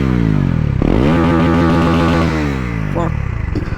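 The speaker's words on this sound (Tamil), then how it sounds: "உங்களுக்கு வண்டியோட பீட்டு காட்டவா?" A 2024 Bajaj NS400Z motorcycle engine revving up close, loud and rising in pitch, then settling back to a throbbing idle.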